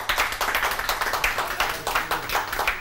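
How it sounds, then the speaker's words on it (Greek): An audience clapping for a singer at a Greek televised music show, a dense, steady burst of applause close by with no talk over it. "θέλω χειροκροτήματα από εμάς"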